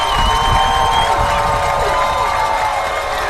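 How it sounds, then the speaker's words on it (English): A high school football crowd at an OHSAA Division IV state playoff game, Galion at West Holmes, producing a loud, sustained roar of cheering and shouting that stays level throughout. "This crowd's letting them hear it."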